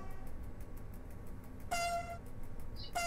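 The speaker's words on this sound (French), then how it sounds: "Mélodie au klaxon." Two separate blasts of a train horn in a train simulator video game, each a short, bright tone, with a quiet gap between them and no talking.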